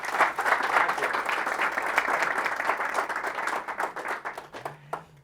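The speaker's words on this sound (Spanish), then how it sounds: "un aplauso, por favor" An audience at a real estate mentoring talk applauds in a dense, steady wash of clapping for about four seconds, then fades out into quiet.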